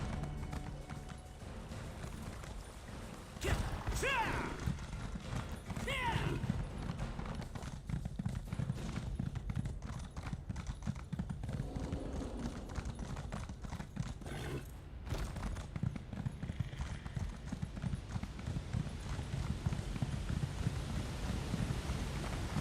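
Horse hooves clopping in Elder Scrolls Online, a steady rhythmic trot running throughout, with a couple of whinnies and short whooshing sweeps early on, no speech.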